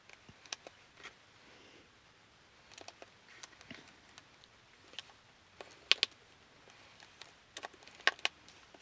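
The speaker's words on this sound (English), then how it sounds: "I did leave the background sound on of the clicking and clacking and drawing" Markers click and clack against paper while someone draws color swatches, faint scattered taps and snaps with small clusters of sharper clicks, close and quiet.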